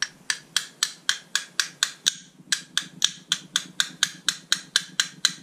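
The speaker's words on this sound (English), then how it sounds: "Depress it while you're starting to hammer down on the roller pin." Roughly twenty sharp metallic hammer taps drive a roll pin into an AR-15 upper receiver, struck in a steady, even rhythm with a brief pause about two seconds in, close and clear with no talking.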